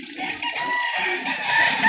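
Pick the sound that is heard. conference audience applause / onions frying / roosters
roosters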